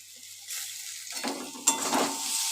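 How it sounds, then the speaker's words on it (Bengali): Spice paste with ginger paste sautéing in a pan for rui fish curry, a soft sizzle that starts faint and swells into steady frying hiss, with a sharp utensil scrape or clink partway through. "এবার ভালো করে কষিয়ে নিচ্ছি।"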